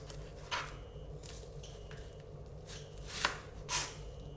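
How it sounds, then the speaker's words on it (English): A knife slices brown onions on a cutting board, giving a few quiet, irregular chopping taps over a low background hum. "I'm just going to chop and tail the ends, and then I'm just going to come through and slice them into small slices"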